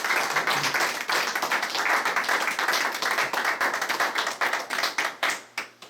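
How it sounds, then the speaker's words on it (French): A small audience at a lottery draw applauds, steady clapping that thins toward the end into a few scattered, distinct claps. "on pourrait l'applaudir"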